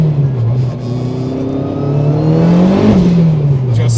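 A turbocharged Honda RSX with straight-cut gears accelerates hard in first and second with its wheels spinning, a loud, close, sustained engine roar that rises and dips in pitch while tire noise whirs underneath.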